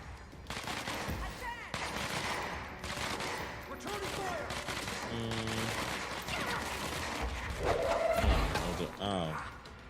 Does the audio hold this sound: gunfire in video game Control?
yes